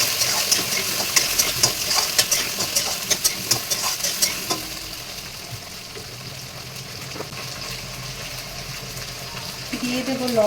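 Potatoes frying in a pan of oil, a continuous close sizzle with rhythmic stirring clicks in the first half that settles into a steadier hiss, with a brief voice at the end.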